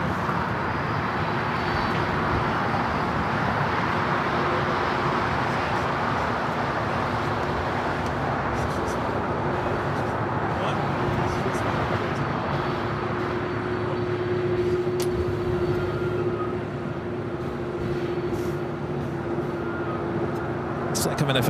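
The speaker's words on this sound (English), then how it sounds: "A Delta 767 400 ER just touching down here on the south side." A Delta Boeing 767-400ER touches down at LAX with a sustained roar of jet engines and a low engine hum. The sound stays steady and moderately distant, with a voice talking over it.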